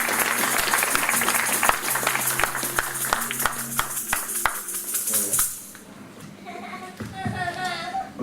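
A church congregation claps and cheers in acclamation for about five seconds as the pastor is welcomed at a worship service. The sound then fades into a quieter room where a voice begins speaking.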